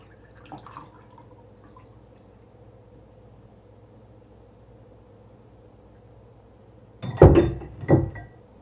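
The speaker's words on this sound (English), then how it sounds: "I'm just going to strain the rest of this." Rendered beef tallow from fat trimmings is strained into a jar, with a faint drip near the start, a long quiet stretch, then two louder splashing pours close by near the end.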